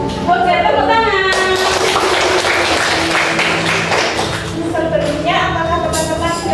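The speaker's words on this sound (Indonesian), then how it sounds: "Oke, tepuk tangan." Classroom clapping after a presentation on arithmetic sequences, a bright burst of hands in the middle heard alongside musical or tonal background sound at the start and end.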